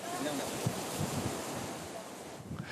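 Strong gusting wind with surf churning against a fishermen's quay at Nouville harbour during a violent storm, gusts near 170 km/h; a continuous loud roar of wind buffeting the microphone over crashing water.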